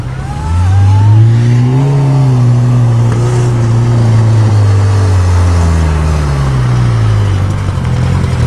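A Suzuki Tracker's engine running rough on three cylinders, revving steadily with a loud, uneven, lumpy note that rises and falls slightly, close by and heard alone.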